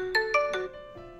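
A phone ringing when triggered by the find-phone function of a Redmi Band 3 fitness band, three quick chiming tones followed by a fainter sustained note, close and clear with no talking.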